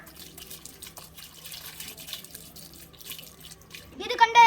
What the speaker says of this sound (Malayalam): ഇനി നമുക്കിത് വെള്ളം ഒഴിക്കാം.